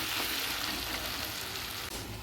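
Fish oil sizzles steadily in a pan as it fries, a continuous bright hiss with no pauses and no talk.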